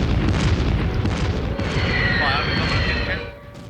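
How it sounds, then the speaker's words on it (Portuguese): Bombing during an air raid on a town, heard as a continuous loud, booming roar with rumbling bursts and a rising whine, fading toward the end. "Às 13h45, o bombardeio."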